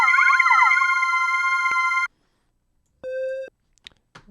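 A synth chord run through an FL Studio flanger with heavy feedback rings out as a bright, metallic, siren-like sustained tone for about two seconds, then a short buzzy beeping tone and a few faint blips follow.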